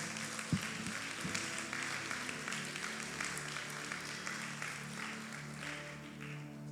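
A church congregation applauding during a sermon, steady crowd clapping heard faint and distant, blended into a continuous roomy wash with a low hum underneath.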